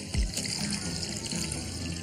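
Water flows steadily in a projection-themed fine dining restaurant with a table display, making a continuous close rushing and trickling sound with no speech.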